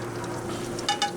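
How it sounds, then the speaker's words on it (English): Burgers searing over high heat on a Member's Mark kettle grill, giving a steady close sizzle with a few brief louder crackles near the end, no talking. "Just do a quick hot sear."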